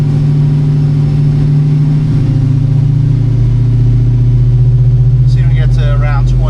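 A car engine on a Mainline Prohub chassis dyno holds a loud, steady drone and climbs in pitch as it revs up, with someone speaking briefly near the end.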